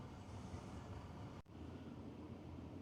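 A steady low mechanical hum and rumble, like a boiler running nearby, continuous and fairly quiet with a brief dip partway through.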